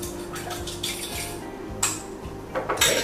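Eggs seasoned with black pepper and salt being beaten in a bowl with a utensil, rapid clinking and scraping strokes close up, with a few sharper clanks near the end.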